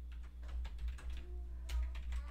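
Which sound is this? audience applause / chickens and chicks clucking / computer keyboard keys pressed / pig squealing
computer keyboard keys pressed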